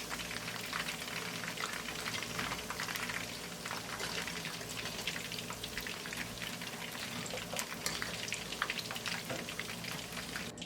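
Chicken pieces deep-fry in hot oil, giving a dense, steady crackling sizzle with fine pops that holds for around ten seconds. The sound is close but moderately quiet, with no speech.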